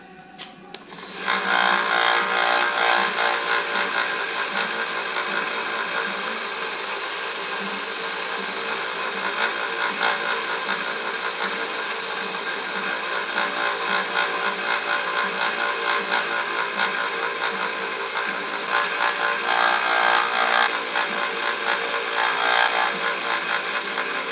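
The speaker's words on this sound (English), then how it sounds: "So we just wanted to show you a little bit of how we do this on the little grinder." Small belt grinder with a badly worn belt smoothing milled knife blades, a steady, loud abrasive whine that runs continuously near the mic, with no talk.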